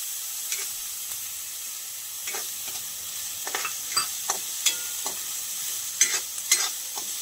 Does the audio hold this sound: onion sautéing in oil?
yes